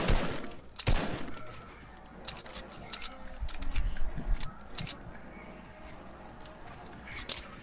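Several sharp gunshots ring out in a shooter video game, spaced bursts of cracks with quieter stretches of game noise between them and no speech.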